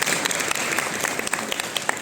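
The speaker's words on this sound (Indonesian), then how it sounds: "tepuk tangan dulu dong" Steady applause from a theater audience, many hands clapping continuously for a couple of seconds with no pause.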